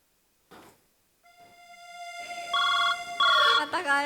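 A phone ringtone plays during a Marathi comedy sketch on stage, a steady electronic tone that swells into a louder melodic ring after brief talk at the start.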